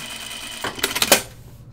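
A sewing machine stitching a shirt dress gives a short burst of quick mechanical clatter of a few rapid stitches after a quiet hum, then stops abruptly.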